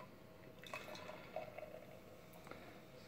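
Dark imperial mocha vanilla stout beer pours from a can in a soft, steady liquid stream with faint splashing and gurgling, quiet and close, with no voices.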